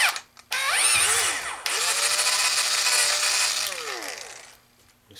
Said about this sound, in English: I'm going to use a 13/64 inch drill bit.